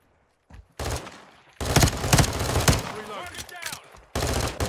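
Automatic gunfire in an Infected-mode video game: rapid bursts and single shots crackling over several seconds, loud and close, with brief gaps between volleys.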